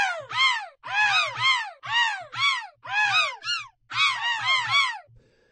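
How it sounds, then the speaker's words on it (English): Harsh crow-like caws played as pitched notes on a keyboard in quick bursts, several rapid phrases separated by short pauses, with soft low thumps underneath. "So now we have a bird keyboard."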